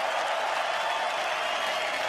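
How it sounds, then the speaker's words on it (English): Audience applause rings through Madison Square Garden in New York City after a middleweight boxing bout, a dense, steady wash of clapping from a large arena crowd. "A round of applause for both fighters in this middleweight contest."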